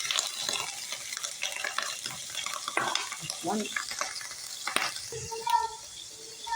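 Sliced onion frying in hot oil, with a busy crackling sizzle and scattered spatter pops alongside stirring scrapes and a few light utensil clinks, steady at moderate loudness throughout.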